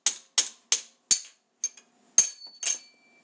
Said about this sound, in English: Get in there with the spindle and just gently tap that out and through.